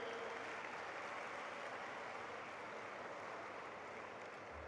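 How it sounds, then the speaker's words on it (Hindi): Continuous applause from an audience at a political speech on youth leadership, welcoming a point about 33% reservation; a faint, even wash of clapping heard from a distance without voices. "तालियां बजा करके हमारी बेटी इसका स्वागत"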